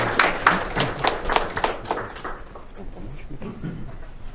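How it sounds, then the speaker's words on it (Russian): Applause at a patriotic forum as a speaker is invited up: brisk clapping from a gathered audience, loudest in the first two seconds and then softening into scattered claps and room murmur. "аплодисменты Алексею Анатольевичу"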